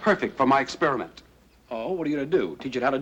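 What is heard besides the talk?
No distinct noise like a dog, phone or traffic.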